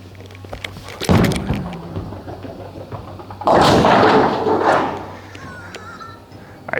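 An Ion Max bowling ball thrown down lane 2 of a bowling alley, with a sharp thud at release followed by a loud rolling rumble that builds and fades over several seconds.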